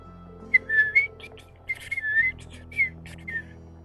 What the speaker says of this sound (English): I can't whistle that well.